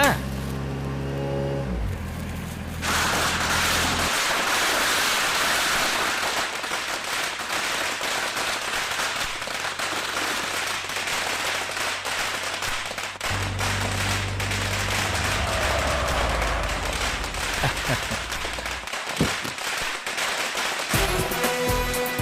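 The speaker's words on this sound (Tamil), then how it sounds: "அசோக், பட்டாசு வெடிக்க சொல்லு. பட்டாசு கொளுத்துப்பா." A dense, continuous string of firecrackers bursting in rapid crackling pops, loud and close, with a few heavier bangs near the end.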